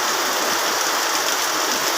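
Dense, steady rain pouring down, a continuous hiss with no pauses or voices.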